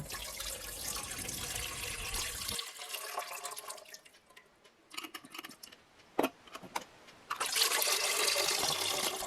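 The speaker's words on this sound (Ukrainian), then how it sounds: "і зливаю воду у банячок" Water drained from jars of marinated tomatoes through a lid with holes into a pot, a splashing pour that tapers to trickles and drips, then surges into a steady stream again.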